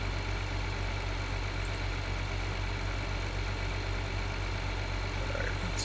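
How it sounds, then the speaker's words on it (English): A worn, costly-to-maintain old Buer tractor idles steadily in a farming video game on a South Dakota map, a constant mid-low engine drone at even level throughout with no voices. "it's not a bad tractor."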